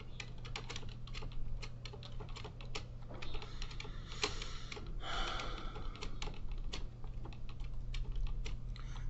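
Computer keyboard keys clatter in a fast, continuous flurry of clicks during play of a platform game, fairly quiet and close, over a low steady hum.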